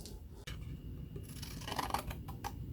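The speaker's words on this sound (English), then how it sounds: "So I'm just finishing up cutting around my two stars." Scissors snip around two paper stars drawn for a children's Christmas craft, with a few close, quick crisp cuts over a low background hum and no talking.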